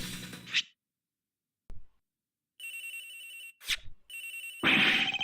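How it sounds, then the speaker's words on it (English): A cell phone in the Ace Attorney Investigations video game ringing in short, bright electronic bursts separated by silent gaps, with a couple of brief clicks between rings, no speech. "Agent Hicks' cell phone. It's ringing from somewhere, sir."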